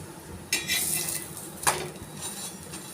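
Utensil clinks and scraping on a pan as a paratha is flipped and roasted in oil, two sharp metallic knocks over a steady faint sizzle, close and alone.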